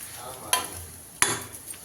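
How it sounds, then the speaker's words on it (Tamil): Ragi semiya being stirred in a pan over a low stove, a quiet bed of scraping with two sharp clanks of a spoon against the metal. "இப்போ ஸ்டவ்வை ஸ்லோவாக வச்சுட்டு இதோட இதை கலக்க வேண்டியது"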